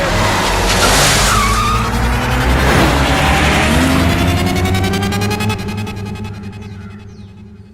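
A car drives past loud and close, its engine roaring and tires squealing, then the sound steadily fades away toward the end.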